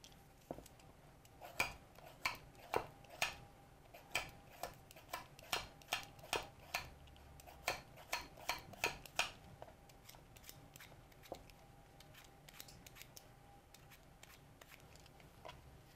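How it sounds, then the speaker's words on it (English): Pears are peeled and cored with a steady series of sharp clicking and scraping ticks at a regular rhythm, faint and close, thinning out in the second half. "The next step is to peel the pears and scoop out the cores"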